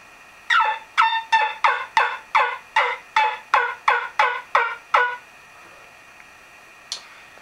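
A wingbone turkey call gives a run of about ten sharp, evenly spaced yelps, then falls quiet before one last short note.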